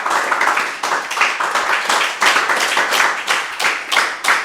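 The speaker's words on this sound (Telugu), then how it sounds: "ఒకసారి మన జగద్గురు బ్రహ్మర్షి పితామహ పత్రిజీ గారికి గట్టి క్లాప్ చేద్దాం" An audience at a meditation gathering claps for their guru, a dense, loud and sustained round of applause from many hands that keeps an uneven rhythm throughout without voices.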